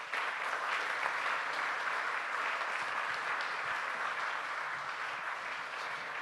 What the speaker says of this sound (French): Vous pouvez applaudir nos 4 intervenants